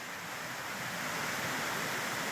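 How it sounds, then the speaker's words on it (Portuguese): Water flowing at the upper section of Cachoeira da Árvore Caída, a waterfall on a trail, giving a steady, dense broadband rush that stays constant and fairly close throughout with no voices. "a parte de cima da Cachoeira da Árvore Caída"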